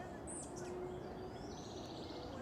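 Birds chirp faintly and intermittently in a quiet park beside a creek, with steady background noise throughout.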